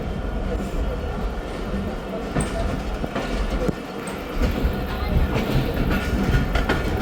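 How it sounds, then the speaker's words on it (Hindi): The 28 Down Shalimar Express moves off with a continuous low rumble and a rhythmic clatter of wheels on rails, close and steady throughout, while someone talks over it. "28 डाउन शालीमार एक्सप्रेस भी रवाना हो चुकी है।"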